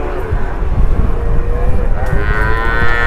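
Javanese cattle lowing loudly at close range, a long drawn-out harmonic moo that rises near the end, with rumbling background noise from a cattle duel.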